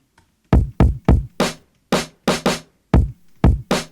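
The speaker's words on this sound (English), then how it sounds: "And with fat drums preset on." Lofi drums run through a fat drums preset in the Serato Hex FX plugin, about a dozen thick, chunky hits in a loose beat pattern with full low end and crisp tops, alone.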